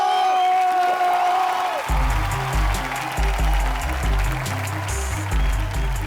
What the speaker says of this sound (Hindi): जोरदार ताली हो जाए।